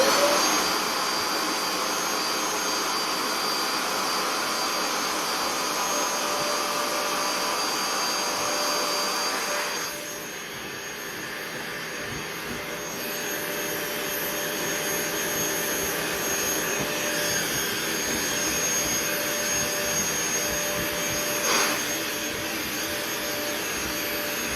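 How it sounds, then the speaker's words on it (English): Bissell Little Green Pet Pro cleaner running on a couch, a loud, steady high-pitched whine and motor hum that dips slightly partway through and then continues steadily with no talk. "So I've gone ahead and vacuumed the couch."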